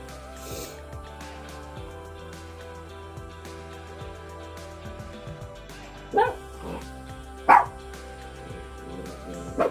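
A dog barks a few times in short loud bursts over a steady background hum indoors, during a sewing session where a zipper pouch is being made.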